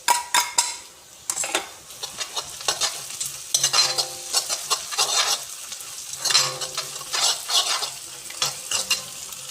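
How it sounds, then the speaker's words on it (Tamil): Onions and ginger garlic paste sautéing in a pan, stirred briskly with a metal spatula: close scraping and clanking strokes in uneven bursts over a continuous sizzle, and nobody speaks. "வெங்காயம் எல்லாம் நல்லா டார்க் ப்ரௌன் வர்ற அளவுக்கு நல்லா வதக்கிக்கலாம்."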